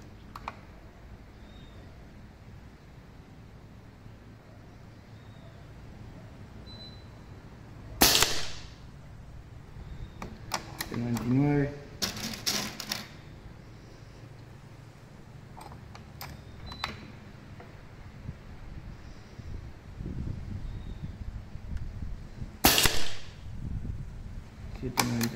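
A Foster Bullpup F290 PCP air rifle in 6.35 calibre fires a few sharp, separate cracks spaced seconds apart over a quiet background, with some faint talk between shots.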